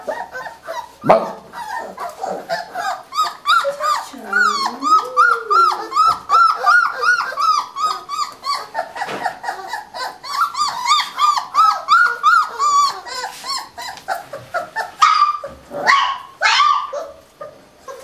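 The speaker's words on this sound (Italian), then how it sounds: "Era Antonio quello che ti abbaiava?" A Cane da Presa Meridionale dog barks and yips close by in repeated bursts, mixed with whimpers and whiny howls, loud throughout.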